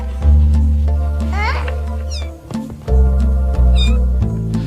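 Six-week-old kittens meow repeatedly in short, high cries, several overlapping at close range, over a steady low hum and background music.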